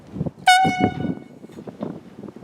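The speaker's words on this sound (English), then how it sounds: "That's a horn. We call it an air horn for a boat." A boat safety air horn gives one sharp, loud, tonal blast lasting about half a second, then quieter background noise.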